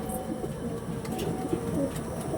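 Pigeons coo in soft, low, overlapping murmurs that run continuously, fairly close, with a few faint clicks and chirps above them.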